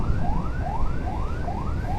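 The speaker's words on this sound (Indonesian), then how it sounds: "yang kaget karena sirine ambulan" An ambulance siren from an Indonesian hospital escort wails loud and close in rapid, repeating rising sweeps, with road noise underneath and no talking.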